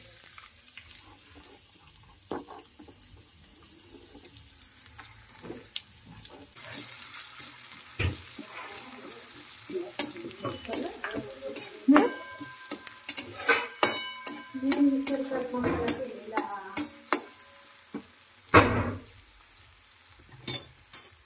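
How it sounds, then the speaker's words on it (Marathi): Cumin and onion frying in a pan, a quiet start giving way to stirring, with a spoon scraping and knocking against metal and a light sizzle building underneath, close and uneven with sharp clacks near the end. "आता मी जिरं तर टाकलंय, आता कांदा टाकायचा."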